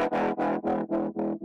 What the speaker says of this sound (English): but we can do better now with the Camel Crusher on.